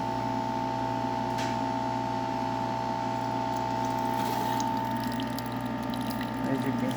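A Keurig K4000 coffee machine, freshly serviced after a no-coffee fault, pumps water while making a cappuccino, giving a steady close hum with a faint watery trickle running evenly throughout.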